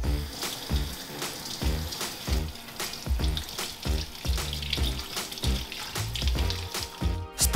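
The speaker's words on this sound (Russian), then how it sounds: "и смываем зелень." Running water rinses herbs off meat that has marinated for twelve hours, splashing close by in uneven pulses as the pieces are turned and rubbed under the stream.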